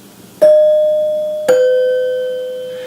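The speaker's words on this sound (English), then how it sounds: "you could chime it manually without having to go out on the front porch and push a button" Two clear, ringing tones from a 1939 NuTone Model B two-note door chime struck by hand with its hammer, a higher note followed a second later by a lower one, each sustaining loudly and fading slowly.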